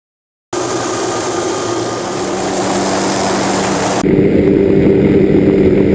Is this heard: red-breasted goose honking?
no